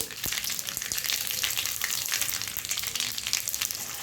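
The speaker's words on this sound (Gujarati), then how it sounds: "અડદની દાળ થોડી લાઇટ બ્રાઉન કલરની થાય ત્યાં સુધી શેકાવા દેવાની." Urad dal and mustard seeds frying in hot oil for a tempering, a dense, crackling sizzle with sharp pops throughout, close and steady with no talk.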